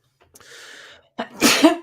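A single loud sneeze, preceded by a drawn-in breath, close to the listener and otherwise quiet.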